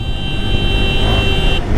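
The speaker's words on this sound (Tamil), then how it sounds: "அப்படியே ஹார்ன் அடிச்சுட்டு இங்கே ஸ்லோ பண்ணிக்கணும்." A horn tone sounds steadily for about a second and a half while a KTM Duke 390 motorcycle rides along a road in India, with engine and wind rumble underneath.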